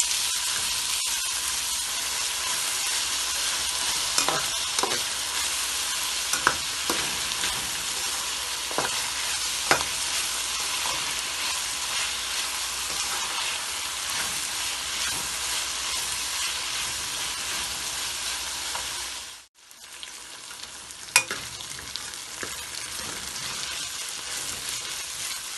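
Sliced onions frying in a pan for loki (bottle gourd) sabzi, a steady close broadband sizzle with occasional stirring clicks and scrapes, briefly dropping out near the end before resuming.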